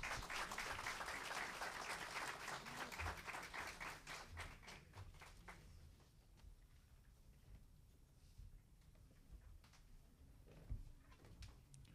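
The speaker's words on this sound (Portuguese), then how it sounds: "Por favor, uma salva de palmas." Applause breaks out at an autism seminar held by a disabilities commission, loud dense clapping at first, then thinning into scattered faint claps and taps that trail off.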